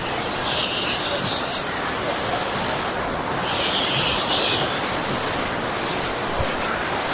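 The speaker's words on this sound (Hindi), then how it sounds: "यहाँ से ग्लेशियर के नीचे पानी जा रहा है।" Glacial meltwater rushes beneath a glacier in Neelum Valley, a steady, loud, hissing roar that fills the scene with a few brief surges.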